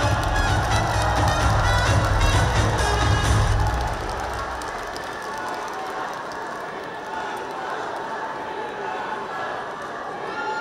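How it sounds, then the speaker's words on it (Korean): A crowd at a Democratic Party presidential campaign rally claps and cheers in a loud, dense roar that drops to a softer, sustained patter of applause after a few seconds, with a low hum underneath at first. "뜨거운 박수로 맞이해 주시기 바랍니다"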